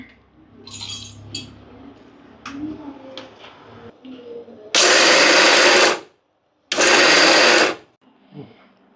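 A mixer grinder grinds roasted peanuts and flattened rice for ladoo in two loud, steady bursts of about a second each, separated by a short pause. Quieter kitchen handling sounds come before the bursts.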